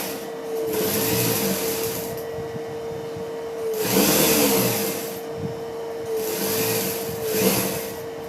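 A sewing machine stitches thread piping onto a chudidar in three bursts of whirring motor hum with clattering needle action, broken by short pauses, heard up close.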